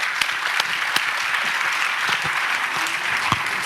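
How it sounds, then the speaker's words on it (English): An audience applauds a panel at a climate finance conference, dense steady clapping throughout at moderate volume with a few sharp individual claps standing out and no voices. "big round of applause to the panel"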